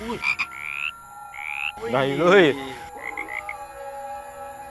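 A frog croaks loudly and close in a series of rapid, wavering calls, with shorter chirping calls before and after and brief speech around them.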